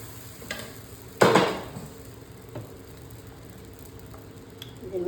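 Ghee roast podi dosa on a hot pan gives a soft, steady sizzle, with a sharp burst of frying hiss as batter or ghee hits the surface, plus light scraping clinks.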